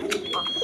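A brief, soft coo from a domestic pigeon, one bird of a pair offered for sale (a sky-blue hen and her mate), rising once in a quiet indoor setting.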